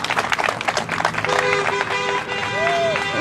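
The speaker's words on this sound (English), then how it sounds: "please, big round of applause for Richard Bettis" Audience applause at a political campaign kick-off event, with crisp individual claps at first that build into a full round of clapping and cheering, and a few voices calling out over it.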